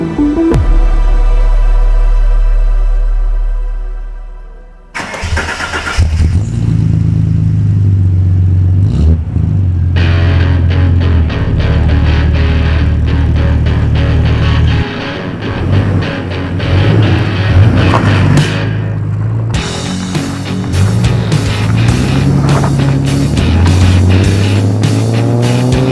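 A Ford EB XR6 Falcon with its six-cylinder engine is driven hard, loud and close, revving up through the gears with clear changes in between.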